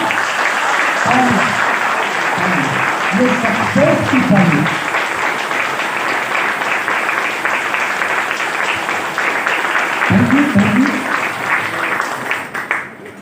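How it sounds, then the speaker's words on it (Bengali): Audience applause at a Vestige mega event motivational seminar: sustained, dense clapping from a crowd runs through the whole stretch, with a voice speaking over it at moments. "জোরদার ক্ল্যাপিং দিই, আর একবার দিই"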